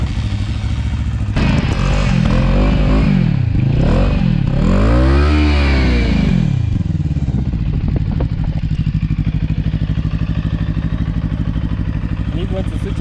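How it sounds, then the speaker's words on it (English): A motorcycle engine at a power bike dealership in Nairobi starts up, revs through several rising and falling sweeps, then settles into a steady, loud idle close by. "So let me switch on the bike."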